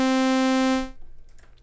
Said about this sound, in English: So a saw wave sounds like this.